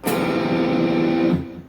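A single ringing distorted electric guitar strum, loud and sustained, with open strings buzzing until it is cut off.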